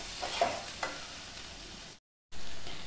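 Masala with coriander powder sautéing in oil in a pan, a soft steady sizzle with a couple of spoon scrapes near the start, close and quiet, cut by a brief gap of silence before the frying resumes.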